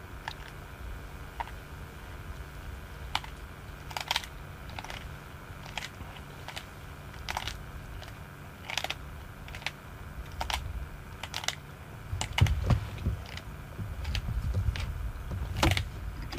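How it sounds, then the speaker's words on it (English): A wild animal crunches through bone while feeding on a safari drive, with sharp, irregular cracks and snaps repeating over a low vehicle and outdoor background, growing denser and louder toward the end. "So I don't know if you guys can actually hear that crunching. He's going straight through the bone."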